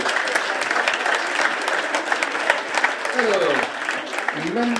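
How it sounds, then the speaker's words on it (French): Sustained applause from a crowd, dense clapping throughout, with voices rising briefly near the end. "On applaudit également Hugo Lombardi."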